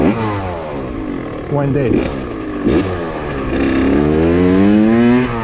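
Motorcycle engine revving in rising and falling bursts while the rider holds a no-hands wheelie, close and loud, with a voice speaking over it.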